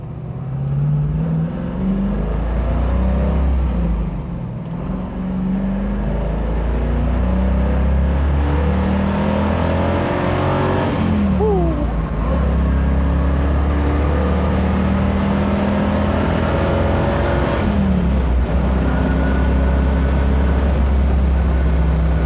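A 1970 Boss 302 Mustang cruises on the interstate, its high-revving engine droning loud and close with rising and shifting engine tones and road roar throughout.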